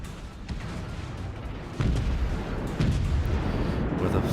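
A naval gun volley fires in the World of Warships game, with low, heavy booms landing in a couple of distinct thuds over a rumbling, steady battle backdrop.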